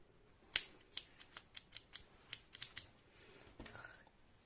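Scissors snip black crochet yarn while finishing a crocheted bat: a quick run of about a dozen crisp, close clicks and snips at an uneven rhythm, with no talk over them.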